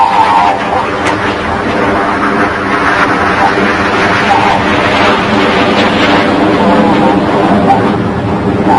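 A Red Arrows display jet roars overhead at the Farnborough International Airshow, a loud, steady, broad engine rumble with a faint public-address voice underneath.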